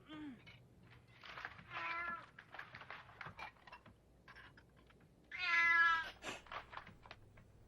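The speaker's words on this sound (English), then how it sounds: "What? A cat?" A cat meows several times in a quiet room, drawn-out nasal cries rising and falling, one louder and longer near the end, with faint tapping between calls.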